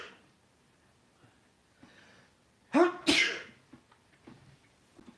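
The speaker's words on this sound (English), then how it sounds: "I'm going to sneeze." A single loud sneeze, sharp and close, with a quick two-part burst, set against near silence and a few soft breaths or rustles.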